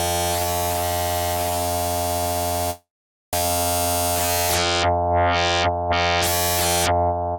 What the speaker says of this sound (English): So that's why it's described as having phase modulation style effects.